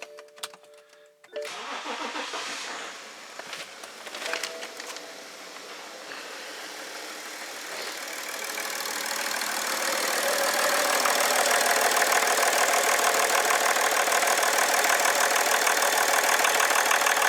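A BMW E70 X5 M57 diesel engine with a misfire cranks and catches after a second of starter whirring, then settles into a loud, uneven, rough idle that grows steadily louder and harsher.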